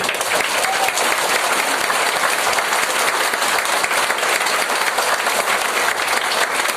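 Seminar audience in Bilaspur bursts into sustained, dense applause, a loud, even wash of many hands clapping for several seconds with no pauses.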